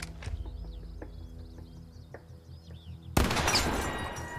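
A few sharp, isolated gunshots ring out over chirping ambience in the video game The Quarry, then a dense, loud burst of gunfire erupts near the end.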